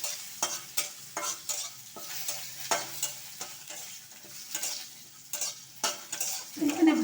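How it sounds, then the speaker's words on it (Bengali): Two bay leaves with asafoetida frying in hot oil, a soft sizzle broken by repeated sharp stirring clinks and scrapes of a utensil against the pan, close and fairly quiet. "এটা আমি একটু ভেজে নিলাম"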